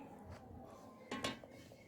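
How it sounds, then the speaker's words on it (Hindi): Milk chocolate mixture stirred slowly in a pot, a quiet soft scraping with a couple of brief louder clinks of the utensil against the metal, close by and alone. "ये अब आप इसको आहिस्ता आहिस्ता हिलाते रहें ताकि अच्छी तरीके से जो है टेक्सचर बन जाए"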